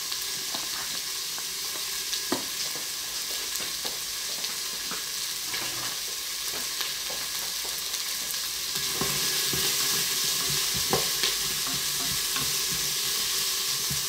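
Onions sauté in a pan for a spaghetti bolognese, a continuous sizzle broken by frequent scraping and stirring knocks, with no one talking.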